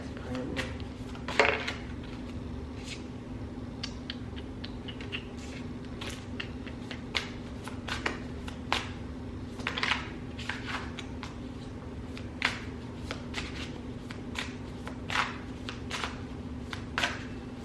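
Tarot cards are shuffled quietly and close by in a string of short, soft riffles and taps over a steady low hum.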